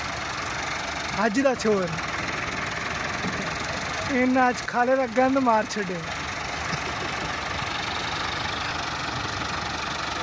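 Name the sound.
tractor 385 engine running while stuck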